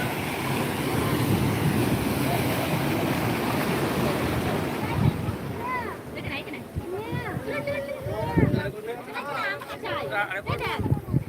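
Ocean waves and wind on Digha Mohana sea beach during rain, a steady rushing surf roar with gusty wind buffeting the microphone; a voice talks over the later part.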